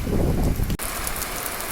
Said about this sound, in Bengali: এখন দেখি যে প্রচুর বৃষ্টি পড়তেছে